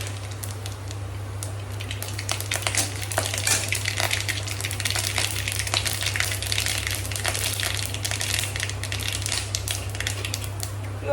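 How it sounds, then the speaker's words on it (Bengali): Mustard seeds dropped into hot oil for a Bengali sour dish: a steady crackling sizzle with dense popping spatters over a low constant hum, continuous and fairly close. "টকের জন্য প্রথমে এই যে তেলের মধ্যে সর্ষেটা দিয়ে দেবো"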